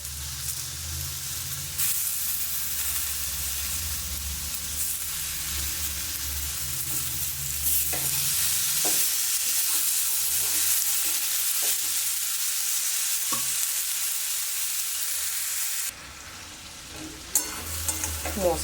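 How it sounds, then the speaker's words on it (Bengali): Spinach frying in cooked-down spice paste sizzles loudly and steadily in the pan, with scraping stirs and occasional clinks, then the hiss drops away briefly near the end. "মশলাটা তো আমার কষা হয়ে গেছে, এবার আমি এতে পালং শাকগুলো দিয়ে দিলাম।"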